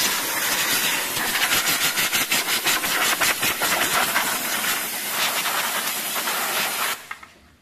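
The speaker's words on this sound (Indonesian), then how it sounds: "Tinggal kita habisin dulu anginnya, kurang dari 90 PSI dia ngisi otomatis." Strong, steady hiss of compressed air venting from the 50-litre tank of a Wipro Gemini 500 2HP electric compressor, loud and close, holding for about seven seconds before abruptly cutting off.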